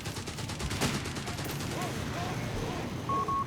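An MG-42 machine gun fires in the strategy game Company of Heroes 3: dense rapid bursts of gunfire over battlefield noise, with a voice talking over the shooting.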